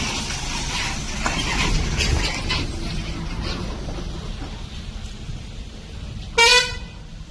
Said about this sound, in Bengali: মা লক্ষ্মী গেস্ট হাউসের সামনে থেকে বাস যাচ্ছে।